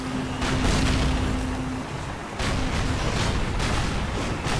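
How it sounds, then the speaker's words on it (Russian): Tanks trade cannon fire in a Call of Duty battle, with loud booming blasts rolling over dense, continuous battlefield rumble and a brief sustained tone in the first half. "Танки друг друга хорошо херачат."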